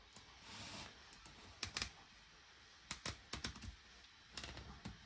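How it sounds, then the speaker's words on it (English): Zip tie ratcheting tight around a Bambu Lab filament spool, heard as a few quiet bursts of crisp, rapid clicking spaced over a few seconds, with soft handling noise in between. "So I'm going to pull that tight now."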